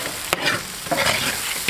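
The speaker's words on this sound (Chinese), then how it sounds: "炒香后下入鸡块" Chicken pieces stir-fried in a wok with chili bean paste and aromatics: loud sizzling broken by several sharp scrapes and clanks of a spatula against the metal, close and busy.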